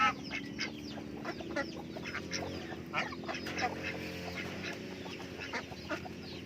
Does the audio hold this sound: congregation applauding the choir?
no